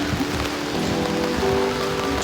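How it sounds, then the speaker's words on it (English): Rain falls steadily on a city street in Midtown Manhattan, a close, even patter of drops on pavement with a faint tone in the background. "It's really raining."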